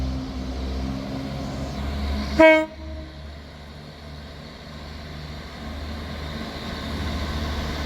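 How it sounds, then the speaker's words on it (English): A ScotRail service to Edinburgh Waverley departs Dundee station, sounding one short, loud two-tone horn blast over a low diesel rumble that then continues steadily as the train pulls away, with no talk. "Departing out now is the 1342 Scotrail service starting here at Dundee to Edinburgh Waverley"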